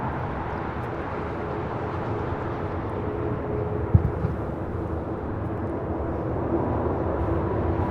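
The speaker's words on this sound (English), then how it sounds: "got that Dreamliner now rolling down 25 right" A Boeing 787 Dreamliner rolling down runway 25 right at LAX for takeoff, heard from a distance as a broad, steady roar with a faint rising drone and no talk.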